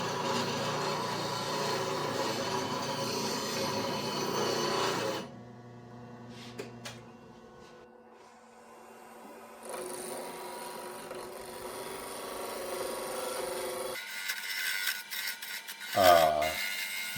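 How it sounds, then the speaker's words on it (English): A woodturning gouge is sharpened in short bursts of steady grinding and rasping, with pauses and lighter scraping between passes, ending in a brief sliding rub. "short break for some quick sharpening"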